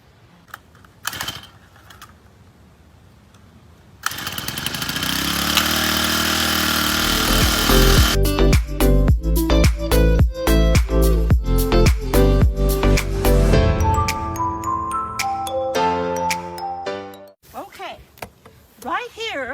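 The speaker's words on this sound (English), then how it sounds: "So we're going to turn the little tiller on." Small garden tiller engine, choked before starting, is pulled over with a couple of cranks, then catches and runs loudly with an uneven chugging roar before cutting off near the end.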